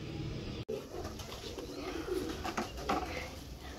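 Pigeons being bathed with water in hot weather coo softly and repeatedly nearby, their low throaty calls overlapping against a steady background hiss.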